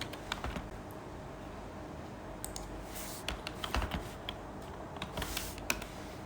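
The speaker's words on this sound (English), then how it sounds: "So you will just type this syntax" Soft, fairly quiet typing on a computer keyboard, irregular clusters of key clicks with brief pauses between them.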